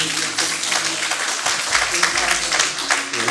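Audience applause and cheering at a French couples' conference on infertility, dense and steady throughout with a faint voice mixed in.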